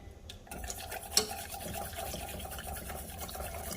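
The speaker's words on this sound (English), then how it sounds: "Stream it in, continue to mix and whisk." Whole milk whisked into a lasagna sauce in a pot, a soft continuous wet swishing and stirring with a brief metallic tick, close and quiet with no voices.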